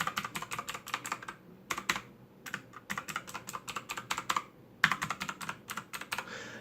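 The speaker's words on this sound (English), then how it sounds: "I'm going to press every key on my keyboard." Keys on a computer keyboard are tapped in quick bursts, crisp close clicks in rapid runs broken by short pauses, with no voice over them.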